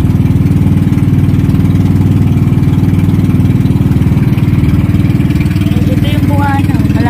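A boat's motor drones loudly and steadily at close range, a constant low throbbing rumble that runs unchanged throughout.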